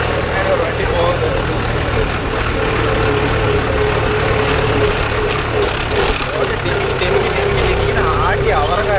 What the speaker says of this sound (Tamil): ஒரு வண்டி போகுது.